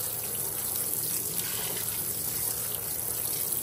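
A Fisher & Paykel washing machine fills with water, giving a steady rushing, trickling flow that is continuous and fairly close, with no pauses.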